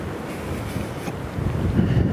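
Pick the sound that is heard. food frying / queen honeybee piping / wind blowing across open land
wind blowing across open land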